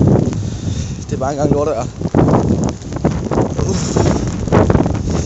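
Storm Bodil blows hard through a forest on Zealand, with wind gusts buffeting the microphone in uneven surges while someone talks over the roar.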